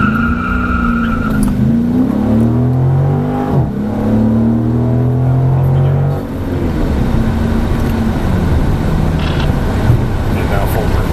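A Dodge Challenger muscle car launches hard from a standing start, its engine revving up in loud rising sweeps with tire squeal, then easing into a steady roar; voices speak over it.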